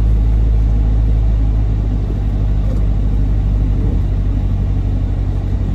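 A Chevrolet Corvette Z06 engine rumbles loudly and steadily from inside the car, a deep continuous drone with no speech over it.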